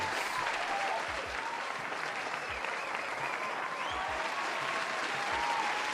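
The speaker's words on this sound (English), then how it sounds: "Let's give a round of applause." Steady, dense applause from a crowd, many hands clapping continuously at a moderate distance, with faint voices mixed in.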